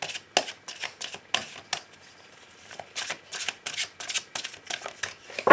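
Tarot cards are shuffled and cut in a quick series of crisp, close riffling and slapping bursts with short gaps between them; no one speaks.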